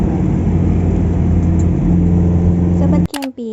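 A car drives out through a toll road exit, its steady engine and road rumble continuous and fairly loud for about three seconds before cutting off abruptly.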